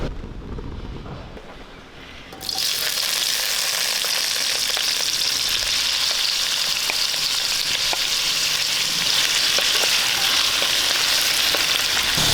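Coconut oil poured into a hot pan of roasted masala for a potato fry breaks into loud, steady frying sizzle after a quiet start, crackling continuously without any talk.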